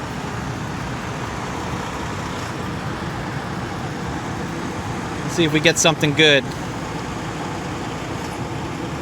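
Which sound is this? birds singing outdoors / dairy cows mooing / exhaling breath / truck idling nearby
truck idling nearby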